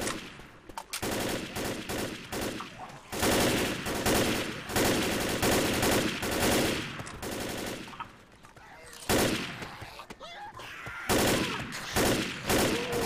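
Rifle fire in Left 4 Dead comes as long, dense automatic bursts broken by short pauses, loud and close throughout.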